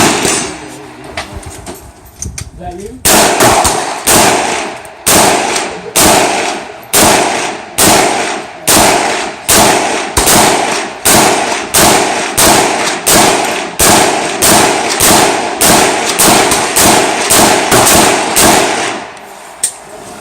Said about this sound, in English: Try to shoot this one hand.